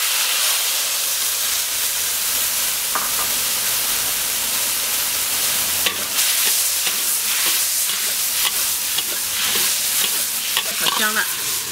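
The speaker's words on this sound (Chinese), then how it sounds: "我把一碗剁辣椒下进去" Chopped chili hits hot oil in a wok and sizzles loudly and continuously, a hissing fry with occasional clinks and stirring scrapes.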